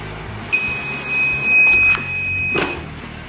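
A steady high-pitched electronic beep sounds for about a second and a half, loud and close, over low background noise.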